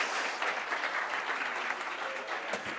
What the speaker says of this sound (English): Let's give her a nice round of applause as she comes and joins us up here.